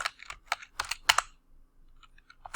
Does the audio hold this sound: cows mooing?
no